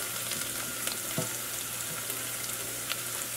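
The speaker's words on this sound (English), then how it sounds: "I'm going in with one hot pepper chopped and 2 tablespoons of minced garlic. I just want to saute that in here." Chopped hot pepper and minced garlic sautéing over low heat in a pot, a steady close sizzle with faint crackles and an occasional soft stir, no voices.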